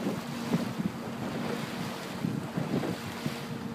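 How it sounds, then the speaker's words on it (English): Ocean waves and steady wind outdoors by the sea, with a boat bound for Denmark passing nearby; broadband rushing surf and wind buffeting the microphone continue throughout, with a few low thumps. "It's outside there's the ocean, Chris."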